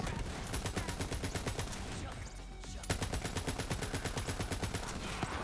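Rapid automatic gunfire from the video game Borderlands 3, sustained bursts of dense rattling shots that continue almost without break, with one brief lull partway through.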